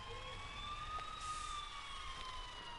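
Police sirens wail in the distance in GTA Online, a steady rising and falling tone that is faint and far off over low ambient rumble, with no talk.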